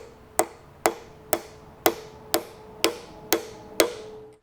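A metal ferrule on a rope for a More Power Puller is flattened with eight sharp hammer strikes in an even rhythm, each a bright close ringing tap with a short decay, with no talk over them.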